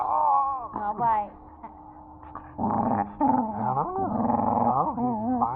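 A young wolf puppy growling and whimpering during rough play, with rumbling growls and whiny vocal rises close up, mixed with a person speaking.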